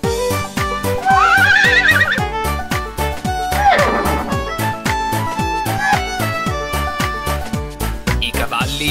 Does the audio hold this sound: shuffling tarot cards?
no